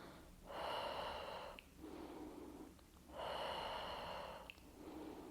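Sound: deep breathing in and out during pregnancy exercise

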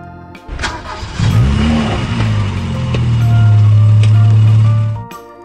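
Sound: car engine starting and revving

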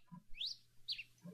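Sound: birds chirping in a video game

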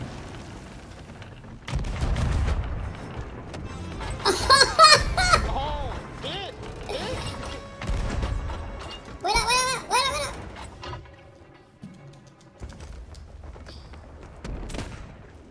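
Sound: ship cannons firing in video game Sea of Thieves

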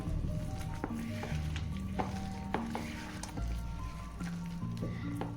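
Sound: water being added and mixed into onion bhaji batter

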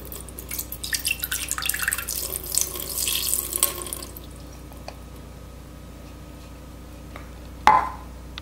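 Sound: pouring water into Paula Deen multi cooker

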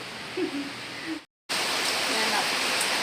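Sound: heavy rain outside

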